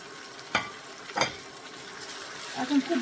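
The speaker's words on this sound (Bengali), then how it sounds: "এখন খুব ভালো করে আমি ভেজে নিব" Beef pieces fry in plenty of hot oil, giving a steady close sizzle broken by a few sharp spatters and stirring clatters.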